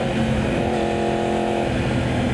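A Yamaha R1 1000cc sport bike engine revs hard and steady on the Clark race track during a track day, a loud, continuous buzzing roar with no talk.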